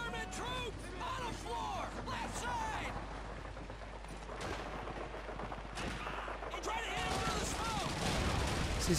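Call of Duty 2 gunfire in the Hill 400 battle, with rapid shots and bursts crackling throughout, some near and sharp, others more distant, while players talk over the shooting.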